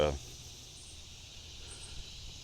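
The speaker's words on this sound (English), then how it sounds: "I think maybe you can hear all the cicadas up in here." Cicadas buzz up in the wetland trees at Tyrrell Park in Beaumont, Texas, a steady, thin high-pitched drone that runs unbroken through the whole stretch, fairly faint and with no one talking.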